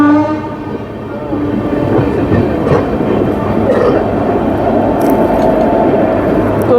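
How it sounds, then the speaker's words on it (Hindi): Amrit Bharat Express hauled by a WAP 7 electric locomotive running into Tundla Junction, a loud continuous rumble with steady tonal hums and a horn-like tone, heard close from on board, with some talk underneath. "तो अपनी ट्रेन दोस्तों टुंडला जंक्शन अराइव कर रही है"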